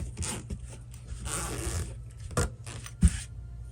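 Zipper slid by hand while sewing it into fabric, heard as short rasping strokes and soft fabric rustles, close and quiet, ending in a sharp little knock.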